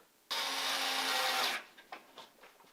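A power screwdriver drives screws into a Rainbow High doll house, giving one loud whirring burst of about a second and a quarter, then a few faint clicks and handling knocks.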